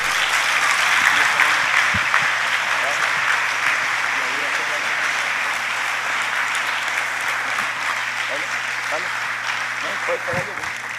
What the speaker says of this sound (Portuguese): Pode dar uma salva de aplausos?